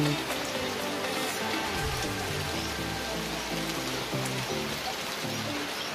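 Rain falls around a home as a constant, even hiss of drops with no clear pauses, fairly soft and steady.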